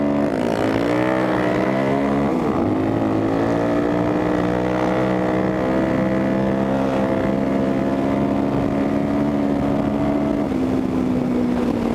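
A Kawasaki KLX470 motorcycle with an FCR carburetor, big bore kit, stroker crank and aftermarket pipe, held at half throttle: a loud, steady, buzzing engine drone that rises and dips slightly in pitch, continuous and close.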